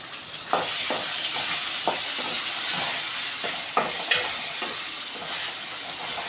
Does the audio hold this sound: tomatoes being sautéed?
yes